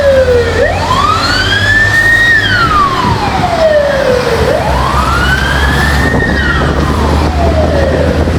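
A loud fire truck siren wails, rising and falling in long sweeping cycles over a low engine rumble, close by and continuous.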